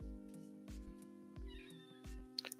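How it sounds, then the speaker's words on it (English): A cat meows once, a short rising call set amid scattered household thumps and knocks, fairly close and quiet, with a few sharp clicks near the end. "Can't just meow at me, home slice."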